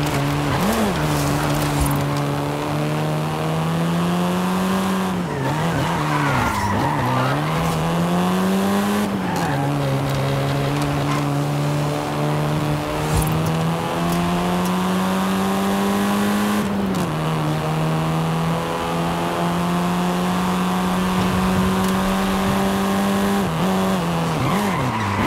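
A car engine drones loudly and steadily, with pitch rising and falling through gear changes, and tires squeal and skid throughout, all in the video game Forza Horizon 5, with no talking.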